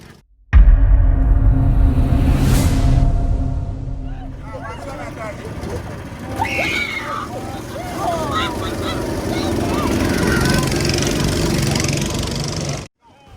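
Go-kart engines buzzing continuously through a race among friends, the droning whine rising and falling as the karts accelerate, with voices murmuring faintly underneath.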